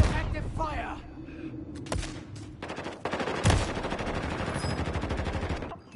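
Rapid automatic gunfire from a Call of Duty match rattles in loud continuous bursts with a heavy thump midway, as players shout excitedly over the shooting.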